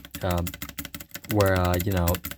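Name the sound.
typing on Fnac Streak 65 LP keyboard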